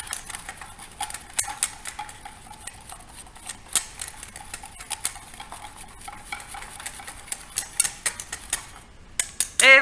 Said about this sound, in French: avec le fouet, hop, je vais fouetter pour éclater les petits morceaux